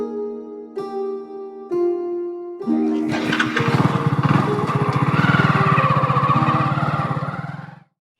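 A motorcycle starts up and then runs with a steady, loud, throbbing engine note. It idles close by for several seconds before cutting off abruptly at the end, and it is preceded by a few faint tonal beeps.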